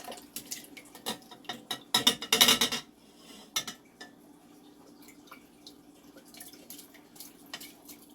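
Herbal tincture poured over a bed of herbs, a brief splashing gush of liquid with light clinks of glass, close by and fairly quiet, then soft dripping and small handling sounds.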